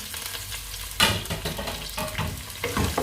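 Ginger, garlic and curry leaves fry in oil for mango pickle, a close, busy sizzle with crackling bursts and stirring scrapes.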